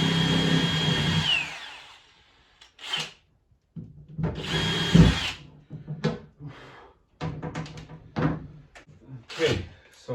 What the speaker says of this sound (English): Okay, so after you're done drilling the front end